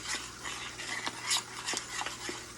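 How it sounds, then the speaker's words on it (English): Sauce being stirred in a cast iron skillet, a steady scraping swish with a few sharper utensil taps against the pan, close and moderately quiet, no talking. "Our sauce, a nice stirring."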